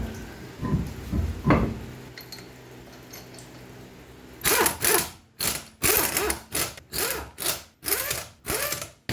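A wheel goes back onto the rear strut of a Toyota Camry station wagon, first with scattered knocks and scrapes, then with a run of rhythmic ratcheting bursts from tightening lug nuts, close up.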